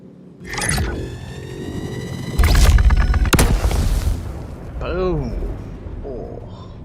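Missiles in a video game streak toward a ground vehicle and explode in deep loud booms, one heavy blast after another, with a voice talking throughout.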